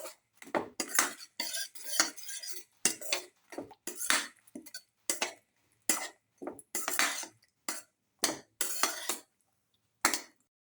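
A spoon stirs a yogurt mixture in a cooking pan, clinking and scraping against the metal in quick, uneven bursts with short pauses, close up and with no talking.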